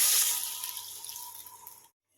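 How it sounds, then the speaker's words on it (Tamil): Water is poured from a vessel onto vegetables in a pan to cook them for a Diwali morning breakfast dish, a close, bright splash that fades gradually and stops abruptly after about two seconds. "இப்போ இந்த காய் கொஞ்சம் வேகிற அளவுக்கு கொஞ்சமாக தண்ணி ஊற்றிக்கலாம்."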